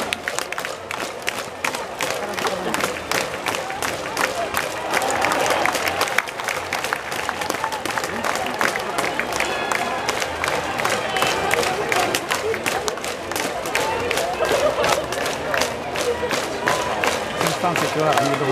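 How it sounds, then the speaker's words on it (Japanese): Crowd applause and rhythmic clapping in the stands at a summer Koshien West Tokyo final between Nichidai Sanko and Tokai Dai Sugao, steady and sustained throughout with cheering voices mixed in. "皆さんから大きな拍手が起きています。"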